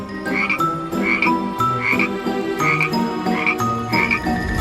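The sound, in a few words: frogs croaking in a pot, horror story effect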